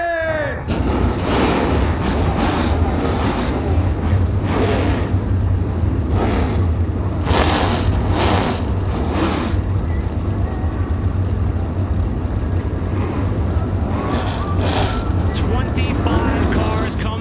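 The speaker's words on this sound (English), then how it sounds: "25 cars come to life, the largest ARCA field at Toledo since 2017." Twenty-five ARCA race cars fire up at Toledo Speedway, a dense, continuous engine drone under a public-address announcer's voice, with revving bursts swelling in and out throughout.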